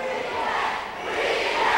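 A lucha libre wrestling crowd in an arena roars and chants together in a steady, loud wash of voices that swells slightly toward the end.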